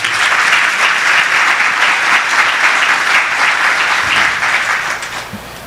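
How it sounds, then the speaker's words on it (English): Loud, dense applause from an audience at a community event, a sustained wash of many clapping hands that tapers off slightly at the end. "please give them a round of applause."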